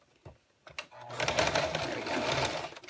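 Domestic sewing machine with a regular presser foot stitching a zipper in place, a few brief starts and stops and then a steady, close mechanical whir of rapid needle strokes.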